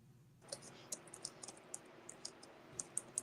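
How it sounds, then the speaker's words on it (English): Keys clicking on a computer keyboard in a quiet room, a string of light, irregular taps spread through the clip with faint background hiss. "Who you typing to?"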